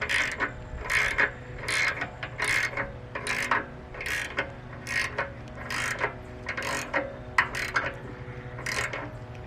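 Fronthoe attachment on a skid steer moves its pin, giving a series of regular metallic clanking, ratcheting knocks at roughly half-second intervals over a low machine hum, fairly close.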